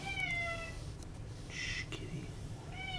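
A cat meows twice in a workshop where a Daewoo A20 lathe is being taken apart, one call near the start and another near the end, with a low background hum.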